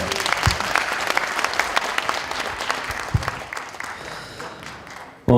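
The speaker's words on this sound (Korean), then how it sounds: "큰 박수 한번 더 부탁드리겠습니다" Steady applause from an audience at a lawmaker's constituency report meeting, a dense wash of many hands that gradually thins and fades toward the end.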